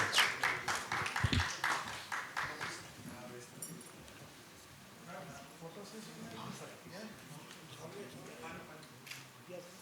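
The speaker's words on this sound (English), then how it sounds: "a big round of applause to Madam Desai" An audience at a conference session on infrastructure planning gives a short burst of applause, a dense run of claps that fades within a few seconds into murmuring and quiet talk.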